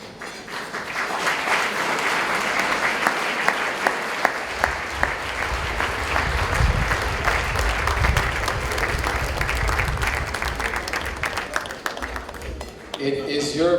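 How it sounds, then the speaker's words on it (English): Sustained standing round of applause at an anniversary gala, a broad, dense crowd clapping that swells with scattered louder claps and a low rumble, tapering near the end as a voice begins. "If you all stand up for a round of applause"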